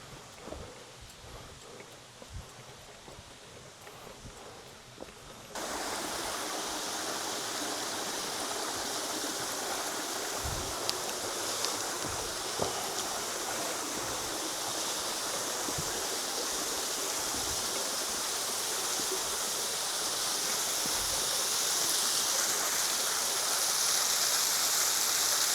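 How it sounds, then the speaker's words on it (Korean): Waterfall and stream in Hiroshima roar steadily close by, a soft rushing flow that jumps to a loud, constant broadband wash after a few seconds and stays full and unbroken. "와, 야, 폭포 멋있다."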